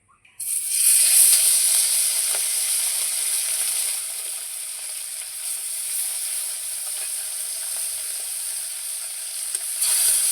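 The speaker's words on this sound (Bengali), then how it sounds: "মাছ ভাজার জন্য কড়াইয়ে দিয়ে দিচ্ছি পরিমাণ মতো সরষের তেল" Fish sizzling steadily in hot mustard oil in a wok, a loud continuous crackling hiss that bursts on as the pieces go in and holds without talk.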